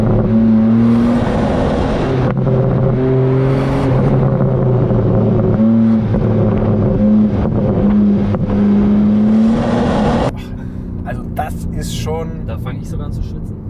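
BMW M3 Competition driven hard through curves, its engine note droning steadily and rising and falling with the throttle, heard from inside the car and loud for most of the stretch before it drops back to a quieter hum.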